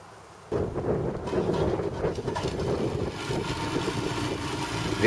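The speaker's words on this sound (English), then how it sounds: "I'm going to shout loud because the engine's running" A boat engine on a sunset cruise in the Florida Keys starts up and keeps running with a loud, steady, rough rumble that lasts to the end of the clip.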